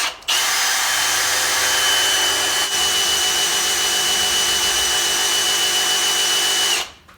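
Power drill spinning over a Chevrolet 283 engine, one steady whine lasting about six seconds with a brief dip midway, starting and stopping abruptly.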